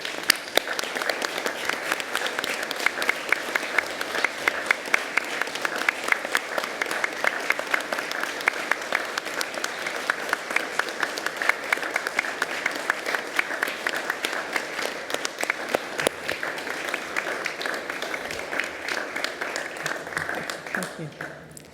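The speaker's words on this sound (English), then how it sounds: "join me in applauding the wonderful achievement of our" A large audience at a university graduation ceremony in Ourimbah, Australia, applauds the graduates in a long, dense, steady ovation, and faint voices sit underneath the clapping.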